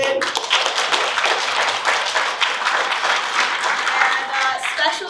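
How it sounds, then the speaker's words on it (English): An audience at an Appalachian spoken-traditions evening gives the speakers a round of applause: dense, continuous clapping from many hands, fairly close and steady for the whole stretch. "I just want to give one more round of applause to them if we could."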